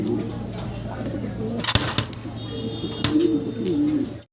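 A pair of white tail-marked pigeons coo softly in a loft beneath a steady low hum, broken by a couple of sharp clattering knocks midway, with thin high chirps near the end.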